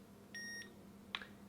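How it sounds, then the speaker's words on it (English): A FatShark Teleporter V5 FPV headset gives a short, bright electronic beep after its middle button is held down, followed by a brief click, all close up over a low steady hum. "you push and hold the black middle button until it beeps"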